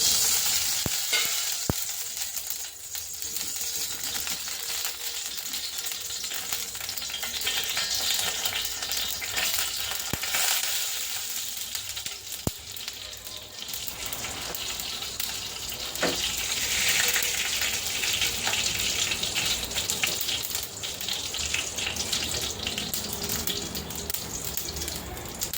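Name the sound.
mustard seeds spluttering in hot oil in a kadai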